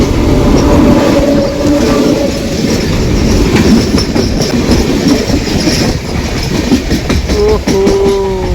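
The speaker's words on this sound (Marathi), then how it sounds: "गाईज ट्रेन आलेली आहे बघा" A train passes close by, a loud, continuous rumble of wheels and carriages with rhythmic clacking and a brief squeal of wheels near the end, with no voices.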